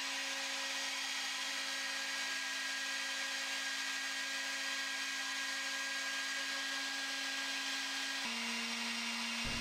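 A CNC machine's tool, set up with a floating head, jogs toward the edge of a workpiece, giving a faint, steady motorized whine that holds evenly and shifts pitch slightly near the end.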